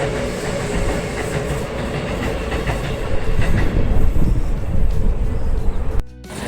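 A passing train rumbles loudly and close by, its wheels clattering rhythmically over the rails, and it swells louder midway before the noise abruptly drops off at the end.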